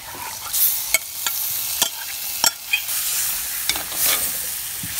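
Marinated prawns are stirred into a tomato masala for a Kerala-style prawn curry: a soft continuous sizzle broken by sharp clicks and scrapes from the spoon against the pan at irregular intervals.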